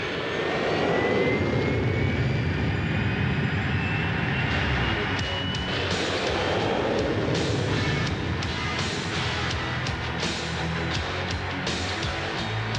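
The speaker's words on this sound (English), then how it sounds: "Carriers Enterprise, Ticonderoga, and Kitty Hawk launched more than 100 planes." Navy jet aircraft launching from an aircraft carrier flight deck, a loud sustained engine roar with a rising whine and bursts of blast noise, close and continuous, with no talk.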